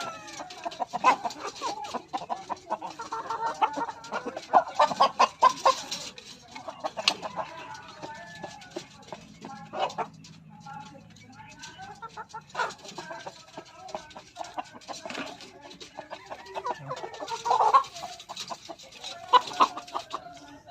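Several chickens cluck and squawk close by at feeding time in irregular bursts, busy and overlapping, with occasional louder calls from the flock.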